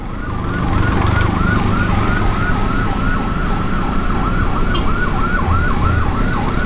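An ambulance siren wails on a road in Samarinda, its rising and falling tone repeating steadily and growing stronger over dense, loud traffic and engine rumble, with no talking.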